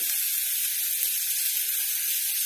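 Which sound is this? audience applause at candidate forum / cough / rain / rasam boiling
rasam boiling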